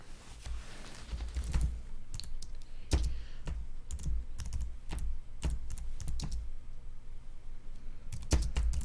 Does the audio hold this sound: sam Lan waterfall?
no